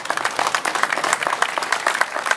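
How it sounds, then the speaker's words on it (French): A crowd claps loudly for runners at an outdoor gathering of a running tour across France in a small Alpine village, a dense, brisk patter of many hands with individual claps standing out, steady throughout. "Je crois qu'on peut les applaudir très fort."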